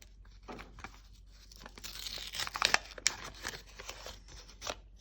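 A paper packet from a McDonald's Minecraft Happy Meal being torn open and crinkled up close, with several short rips and rustles growing busier in the middle before settling down.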